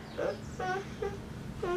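A young child's whimpering cries come in four short, wavering bursts, fairly close and moderately loud, with brief pauses between them.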